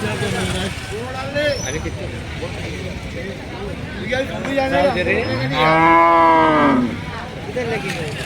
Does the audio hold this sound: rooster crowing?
no